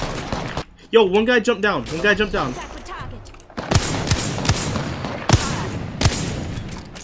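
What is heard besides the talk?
gunfire in video game Apex Legends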